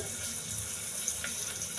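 A glass of water pours into a cooking pan in a steady, continuous rushing stream, close and even throughout, with no talking.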